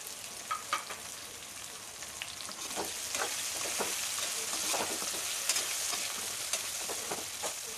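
Onions, shallots and garlic fry in oil with curry leaves for Chettinad ennai kathirikai kulambu, a steady close sizzle and crackle with scattered spatula scrapes and stirring knocks, moderately quiet and without talk.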